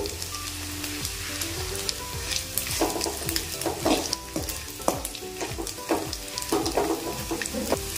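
Ingredients fry loudly in hot oil for a curry, a steady close sizzle broken by repeated scraping stirs of a spatula against the pan.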